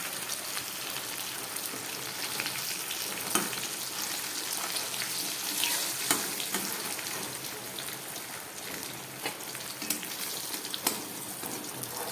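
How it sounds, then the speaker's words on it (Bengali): Fish frying in hot oil in a Bengali home kitchen, a steady dense sizzle and crackle with occasional sharper pops, close and continuous with no talking. "মাছগুলো খুব ভালো করে ভাজা হয়ে গেছে, এবার আমি নামিয়ে নিচ্ছি।"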